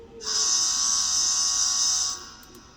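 A single sustained electronic horn tone from a sound decoder in an N scale Kato P42 model locomotive, bright and buzzy, holds steady for about two seconds then cuts off, close and loud.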